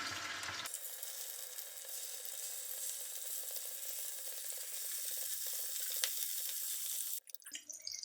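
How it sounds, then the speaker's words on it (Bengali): Fish rubbed with salt and turmeric frying in oil in a frying pan, a loud steady sizzle holding from start to nearly the end, where it drops away into a brief softer rustle. "ফ্রাই প্যানে কিছুটা তেল দিয়ে দিচ্ছি মাছ ভাজি করার জন্য"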